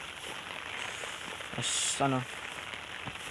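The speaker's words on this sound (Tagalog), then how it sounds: "Lakas ng ulan." Heavy rain pours steadily outdoors in a broadband hiss, with a few brief knocks and a short burst of louder sound partway through, and a voice speaks briefly.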